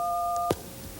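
A touch-tone phone key tone made of two mixed tones, a steady electronic dual-pitch beep held for about half a second and then cut off abruptly, clear and close, with no talking.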